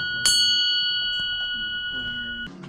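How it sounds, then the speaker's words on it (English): An old bell at a film location is struck once with a clear metallic ring. The tone holds and slowly fades over about two seconds, alone and close. "This bell here."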